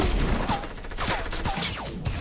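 Close, continuous gunfire in Fortnite as a player takes bullets from behind, with dense overlapping shots and brief pinging impacts running the whole time at steady loudness.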